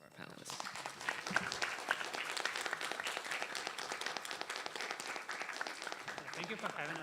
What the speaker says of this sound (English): Can we please have a huge round of applause for our panelists?